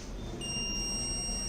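Electronic buzzer alert sounding from a 3-phase line-to-neutral fault detection circuit: a steady, continuous high-pitched tone that starts about a third of the way in and holds to the end over a low background hum.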